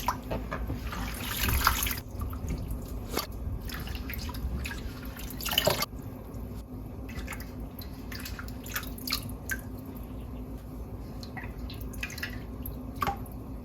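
Tap water running into a sink while collard greens are washed, a steady soft splashing stream with scattered drips and occasional louder sloshes of leaves being handled, close and fairly quiet, with no talking.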